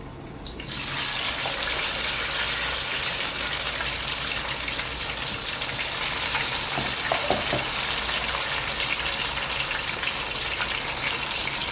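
Fish frying in hot oil in a pan, a steady dense sizzle and crackle that starts right after the fish goes in and holds loud and close throughout, with no talking.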